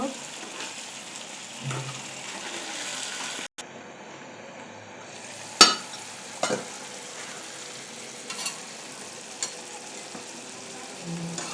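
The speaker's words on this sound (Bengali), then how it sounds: "এখন আমি মাছগুলোকে আবার উল্টিয়ে দিব" Fish frying in a pan give a constant sizzle, broken by sharp clatters and scrapes as the pieces are turned over, with several louder knocks partway through.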